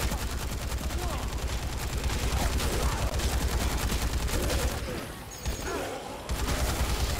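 Gunfire in the video game Dead Rising 3, rapid sustained bursts of shots in a continuous fusillade, loud and dense, easing briefly before resuming, with a voice talking faintly underneath.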